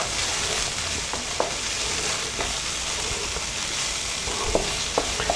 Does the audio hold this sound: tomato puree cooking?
yes